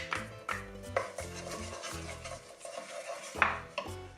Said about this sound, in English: So now we can add our sliced garlic